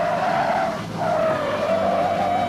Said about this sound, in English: The Riviera went into the reverse spins well